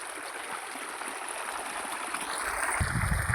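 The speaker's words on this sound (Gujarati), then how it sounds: "અમારે કૂવાની અંદરથી મોટર પાણી કાઢે છે" A motor pump draws water from a farm well, producing a continuous rushing, hissing flow. A low engine rumble grows stronger toward the end, and no voices are heard.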